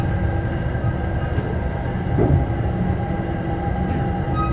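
An Exo commuter train in Montreal rolls into a station, heard from inside as a loud, steady rumble of wheels and motors with faint rattling and a brief louder swell midway.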